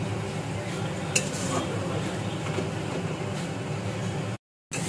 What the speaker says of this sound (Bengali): আমি মশলাটাকে ভালো মতো কষিয়ে নিচ্ছি।